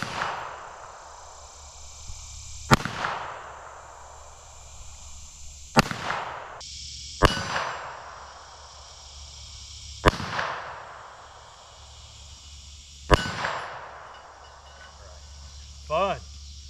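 Sharp, loud pistol shots from a Ruger .380 LCP fired outdoors, about five separate cracks spaced a few seconds apart with a steady insect chirp in the background.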